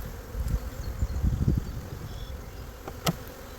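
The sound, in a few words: honeybees buzzing in a crowded hive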